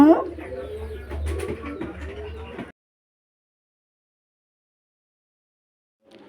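Village pigeons coo softly and close for under three seconds amid faint background voices, then near silence follows.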